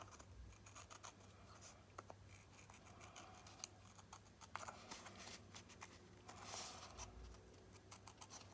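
Faint, close snips of scissors trimming the white edges from paper, scattered irregularly over a steady low hum of the room.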